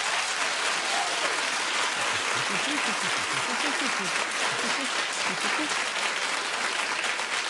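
Studio audience clapping on a daytime talk show, loud continuous applause filling the whole stretch, with a voice faintly underneath.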